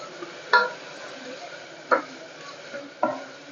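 Masala for a drumstick curry fries in a pan while a spoon stirs it, giving a low steady sizzle with three sharp scrapes against the pan.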